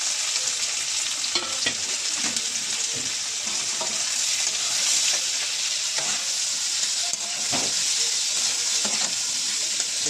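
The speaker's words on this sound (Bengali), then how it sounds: "পেঁয়াজটাকে কিন্তু কষিয়ে নিচ্ছি আগে হালকা করে ভেজে" Onions frying lightly in a pan for a Bengali dried-fish (shutki) curry, a steady close sizzle and crackle running unbroken throughout, with a few soft stirring scrapes and no voices.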